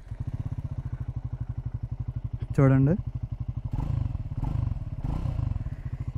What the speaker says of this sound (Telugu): ఎగ్జాస్ట్ సౌండ్ వినిపిస్తాను ఒకసారి మీకు.